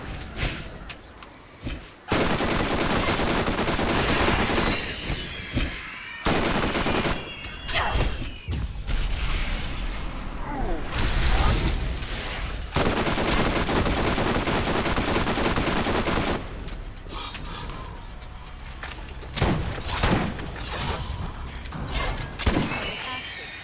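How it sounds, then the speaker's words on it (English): Sustained gunfire from the video game Borderlands fills most of the stretch, rapid bursts and heavy impacts running nearly continuously with brief lulls, loud and close, with a voice talking over parts of it. "Stop shooting me."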